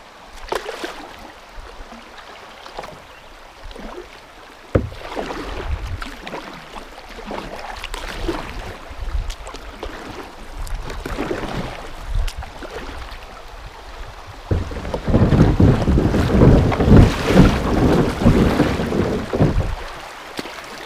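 Small boat motoring up a creek, its engine a steady low drone with water churning along the hull, swelling louder and rougher in the last several seconds.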